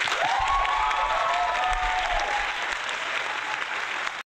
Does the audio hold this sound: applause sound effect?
yes